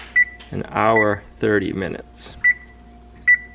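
An oven's control panel gives short electronic beeps while preheat to 350 and a kitchen timer are set. Several single beeps fall before, between and after a person's speech, close and clear.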